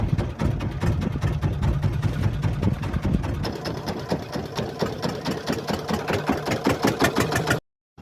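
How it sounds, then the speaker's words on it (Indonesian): A fishing boat's engine at sea is restarted, loud and near, settling into a fast rhythmic chugging idle that runs steadily before cutting off abruptly. "Pukul 6:10, mesin perahu kembali dinyalakan"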